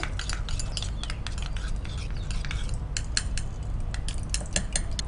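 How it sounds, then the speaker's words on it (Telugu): Maida and cornflour batter stirred in a bowl, giving a steady run of close metallic clinks and scrapes of a spoon against the bowl, with no voices. "కొద్ది మైదా, కొద్ది కార్న్ఫ్లోర్, మరీ ఎక్కువగా లూజ్గా కాకుండా దీన్ని మనకి పట్టుకున్నంత ఈ విధంగా మనం కలుపుకుంటే సరిపోతుందండి"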